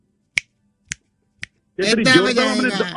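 Three crisp, evenly spaced finger snaps ring out alone, each a sharp click, followed by someone talking.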